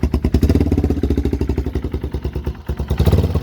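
A 1978 Honda XL250 motorcycle engine runs cold, loud and close with the exhaust baffles removed, unmuffled rapid popping exhaust pulsing steadily with a slight dip and recovery in revs.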